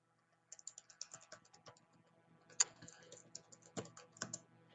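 Typing on a computer keyboard in bursts of quick, light key clicks with short pauses and one sharper keystroke midway, close but quiet, no talking.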